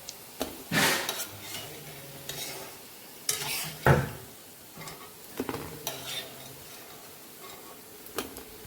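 Fish roe fritters fry in a pan with a soft, steady sizzle, punctuated by sharp spatula scrapes and clinks as the pieces are flipped. The sound is close and unaccompanied by speech.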